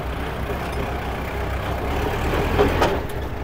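A Kubota L5018 tractor, a 2021 model with a dozer blade and six-disc plough, runs steadily in fourth gear. The engine makes a continuous low diesel rumble that swells slightly near the end.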